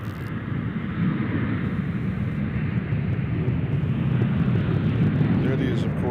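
A jet airliner, Iron Maiden's Ed Force One, takes off from Nashville International Airport with a loud, steady, broadband engine roar and wind rumble that holds throughout, while someone talks over it.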